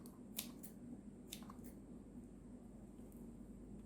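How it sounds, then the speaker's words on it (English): Scissors snipping fresh fenugreek (methi) leaves during a garden harvest, a few quiet crisp cuts near the start and middle over a steady low background hum. "All you need is a pair of scissors. So you can just snip them like this."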